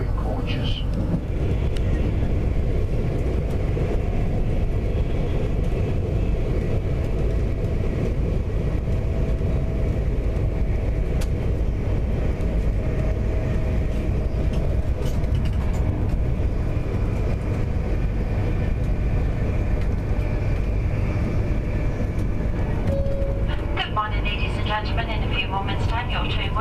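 Rumbling of a train in motion heard from inside the carriage on a journey in Glasgow, a steady loud low drone running throughout, with an onboard announcement voice over it and a brief higher squeal near the end.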